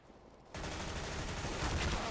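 Loud, dense automatic gunfire from a CS:GO match bursts in after about half a second and continues as a sustained, rapid volley to the end.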